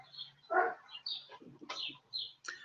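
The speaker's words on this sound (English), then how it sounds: "Sorry about the birds." Birds chirping and calling outdoors, several short bright calls scattered across the moment, moderately close, with no talk over them.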